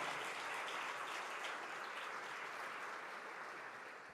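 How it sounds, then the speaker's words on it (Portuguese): Church congregation clapping in steady, dense applause, filling the room evenly and fading slightly toward the end. "Então é por causa de Jesus, aplauda o nome dele"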